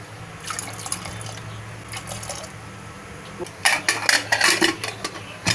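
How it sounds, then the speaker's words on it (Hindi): Soaked kidney beans are tipped into a metal pressure cooker, with wet sloshing and clattering in quick bursts that grow louder toward the end, close by and without speech. "एक प्रेशर कुकर लेते हैं, हम उसमें ये भिगोई हुई राजमा डाल देंगे।"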